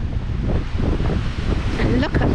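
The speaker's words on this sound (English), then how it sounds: "And look at these lovely waves." Sea waves breaking on the shore at Blackpool Sands beach in England, a steady continuous wash of surf with wind noise buffeting the microphone throughout.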